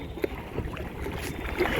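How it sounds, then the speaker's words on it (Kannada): A large cargo boat that carries shipping containers passes on a wide river, heard as a faint, distant low rumble with light wind and water noise. "ಇಷ್ಟು ದೊಡ್ಡ ಬೋಟ್ ಗೈಸ್ ಇದು. ಕಾರ್ಗೋ ಬೋಟ್ ಇದು ಆ್ಯಕ್ಚುಲಿ."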